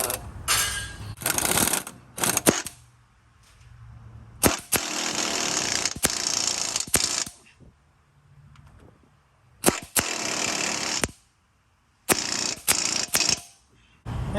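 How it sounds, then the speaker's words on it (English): A power tool tightens 15mm bolts on the front strut of a 2014-2020 Yukon, running in loud, rattling hammering bursts of a second or two with short gaps and quiet pauses between them. "Tighten up these 15mm bolts"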